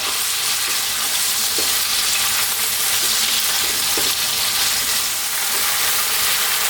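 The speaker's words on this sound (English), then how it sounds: "So on a medium heat, let's cook this, get the steak on its way, the beef steak on its way." Beef steak sizzles steadily in a pot over medium heat for a stew, a dense continuous frying hiss with occasional faint pops and stirring scrapes, close and alone.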